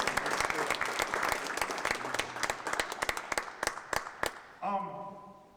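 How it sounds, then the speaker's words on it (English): An audience at a poetry event claps for a poet, a dense round of applause that thins into scattered individual claps and then stops, with a brief voice at the very end. "Give Olivia another round of applause"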